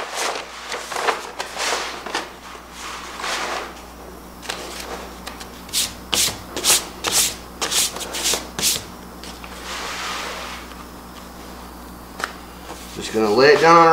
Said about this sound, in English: Then I'm just gonna peel this off.